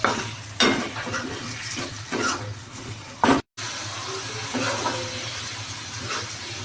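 Fish fries in masala in a pan, a steady sizzle with bursts of stirring and scraping from a utensil, close and fairly quiet, with one brief dropout.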